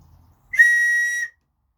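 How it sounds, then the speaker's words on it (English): A single emergency whistle from a survival kit blown once, a loud, shrill, steady blast of about three-quarters of a second, close by and alone after a short silence. "Emergency whistle."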